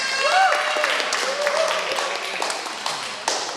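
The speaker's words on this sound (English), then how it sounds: "let's give them one more round of applause" Brief audience applause for MPs and dignitaries at a Brampton media gathering, light clapping with some taps, and a voice briefly over it.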